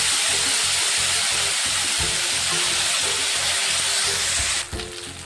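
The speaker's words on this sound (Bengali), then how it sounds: "উল্টে পাল্টে ভালো করে ভেজে নেব।" Moong dal muitha dumplings fry in hot oil with turmeric in a wok, giving a loud, continuous sizzling hiss with a faint rhythmic bubbling underneath that fades slightly at the very end.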